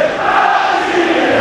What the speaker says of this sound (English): the chants of his name from the section of City supporters